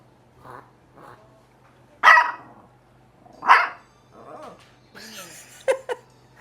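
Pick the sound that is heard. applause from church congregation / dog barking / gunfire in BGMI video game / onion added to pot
dog barking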